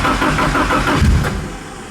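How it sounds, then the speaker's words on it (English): SR20DET-swapped Datsun 510 cranking over: a loud, steady, rough mechanical churn heard up close, with no starter pauses and no talking. "Keep cranking."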